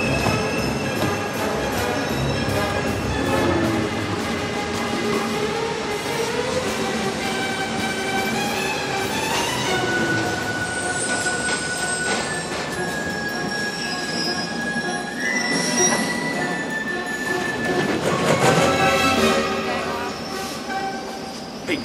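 A New York subway train rumbles and shrieks through a film chase scene, its wheels squealing in long rising tones over a loud, continuous roar with a horn-like blare, while voices and music mix in beneath.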